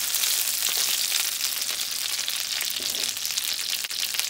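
Panko-crusted pork schnitzel fries in a pan with a steady, bright sizzle that is close and fairly loud. It stays constant throughout, with no voices.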